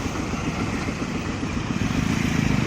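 Continuous road traffic streams past at Kondye, Kankavli, in the Konkan, a steady near rumble of engines and motorcycles with rising and falling passes and no clear break.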